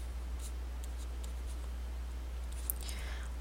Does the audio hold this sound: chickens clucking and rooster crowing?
no